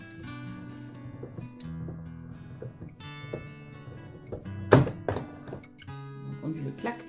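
A die-cutting machine pressing watercolour paper to flatten its grain gives one sharp, loud clack about two-thirds of the way through, over a steady bed of voice and tonal background sound.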